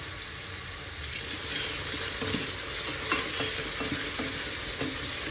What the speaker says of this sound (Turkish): Soğanımı şöyle doğradım. Güzelce kavuruyorum.